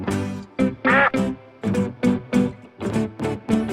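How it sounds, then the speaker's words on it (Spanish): A duck quacks in a rapid series of nasal, harmonic calls, about eight close, loud bursts over a few seconds, heard alone without talk. "¿Cuál es el sonido que hace el pato?"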